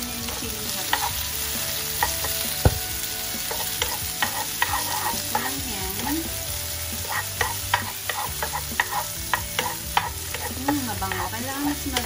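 Garlic, onion, green and red peppers and chili stir-fry in a pan, a steady sizzle broken by frequent scraping and clattering strokes of the spatula, close and lively with no talk.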